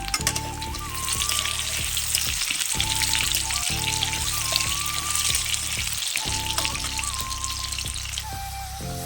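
Salted cut potatoes fry in hot oil with a steady, close sizzle, stirred now and then, while a faint tonal background hum runs underneath throughout.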